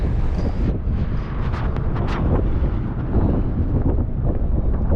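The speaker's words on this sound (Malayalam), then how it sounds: "നല്ല കാറ്റുണ്ട്." Strong outdoor wind on a changeable March day in a Canadian town buffets the microphone with loud, continuous low rumbling gusts for several seconds, with no talk over it.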